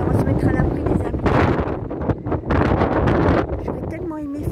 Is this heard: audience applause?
no